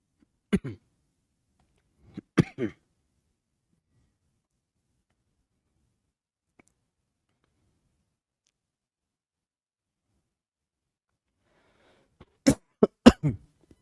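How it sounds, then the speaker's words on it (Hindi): A few sharp, dry coughs in quick bursts, spaced apart with long quiet gaps between them, close and fairly soft. "बहुत ज़्यादा खांसी परेशान कर दिया है मतलब"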